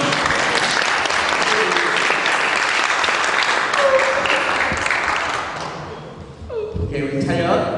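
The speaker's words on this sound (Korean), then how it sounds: "박수 한번 쳐주시겠어요?" Audience applause at a church student Christmas Eve recital fills most of the clip, steady and close, then thins out and stops, giving way to a few thumps and a voice speaking.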